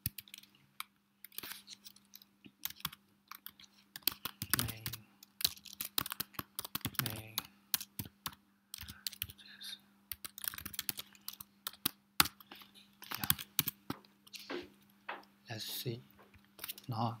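Clicky, irregular typing on a computer keyboard while coding, with close, bursty keystrokes pausing and resuming throughout and occasional speech.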